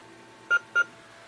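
A digital bathroom scale gives two short, clear electronic beeps about a quarter second apart against a quiet background.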